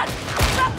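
Suppressing gunfire in the co-op shooter Warhammer 40,000 Darktide, a short burst of shots with a low thud, heard over game noise and voices.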